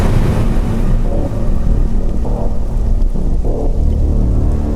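Heavy rain pours steadily with low rolling thunder rumbling underneath, a dense continuous wash that stays loud throughout with no voices.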